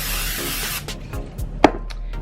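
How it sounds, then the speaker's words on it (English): Pam Original cooking spray is misted onto a nonstick pan in a short, soft hissing burst, followed by a few light clicks and knocks from handling the can and pan. "I am gonna take just a little bit of this Pam Original and spray the pan."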